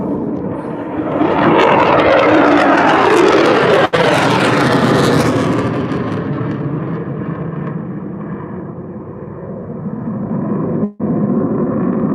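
An F-35 fighter jet makes a solo pass over an air force base, a loud broadband roar that swells as the aircraft approaches, peaks overhead and then fades slowly as it departs.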